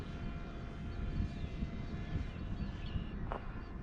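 A small Nano Talon RC model airplane with a jet-style tail flies overhead, giving a continuous airy, buzzing whir from its electric motor that stays at a fairly even level throughout, with no talk.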